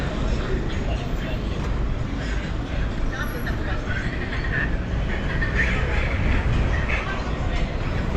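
A train riding the rails in Paris: steady, loud rumbling roar with dense low-end noise and a continuous hiss that carries throughout without a break.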